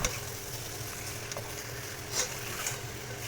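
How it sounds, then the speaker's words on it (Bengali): Spices, a ripe tomato and fatty mutton sizzle in oil as they are sautéed for a curry, producing a soft, steady frying hiss with a few faint stirring clinks. "এবার কিন্তু সমস্ত মশলাগুলোকে আবারও খুব ভালো করে আমি কষিয়ে নেবো।"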